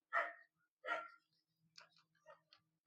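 A dog barks a few times in the dark outdoors, two loud nearby barks followed by fainter, more distant yelps, with a low steady hum underneath.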